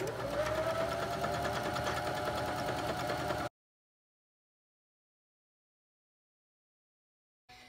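Fast, steady mechanical whirring of a sewing machine running a zigzag stitch along the top edge of a skirt, close and continuous for about three seconds before it cuts off into silence.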